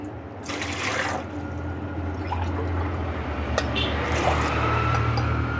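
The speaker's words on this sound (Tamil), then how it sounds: "அதில் வந்து ஒரு டம்ளர் தண்ணி ஊற்றிருக்கோம்" Water pours steadily into a pot for mutton biryani, a continuous close splashing stream with faint clinks partway through.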